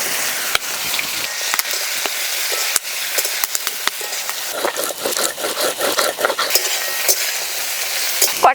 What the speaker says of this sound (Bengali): মাছ ভাজা তেলে পটল ভেজে নেব।